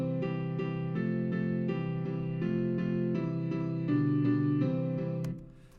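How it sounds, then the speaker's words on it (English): Synthesized chord notes chopped into repeating eighth notes play a Twinkle Twinkle harmony, a steady pulsing stack of pitched tones that shifts chords every bar before cutting off near the end. "I've chopped the notes of the chords up into eighth notes"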